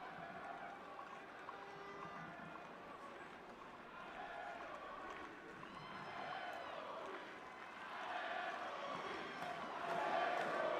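About 8,000 football fans at the Mauritius national stadium chant Allez Maurice in unison. The sound is distant and fairly faint, then swells louder toward the end.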